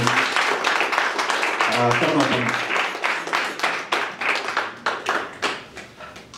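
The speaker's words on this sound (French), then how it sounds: "Alors, des applaudissements." Audience applause at a French reading event, dense clapping from many hands filling the room and then thinning into scattered claps as it fades, with a voice speaking briefly over the start.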